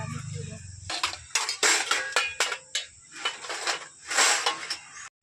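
Metal cooking pots and utensils clatter and clank as they are set down after washing, a run of sharp, close knocks and rattles in quick bursts, with a low hum at the start and no talk.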